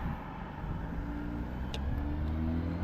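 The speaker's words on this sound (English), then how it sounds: "We'll let these cars go." Cars passing on a road at a traffic light, a steady loud engine and tyre rumble continuing throughout with no talk.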